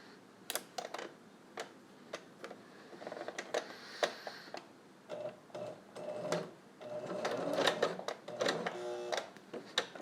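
A sewing machine stitches stretchy spandex for a Spider-Man test mask in short, irregular bursts of rapid mechanical ticking, with pauses and clicks between runs and no talking.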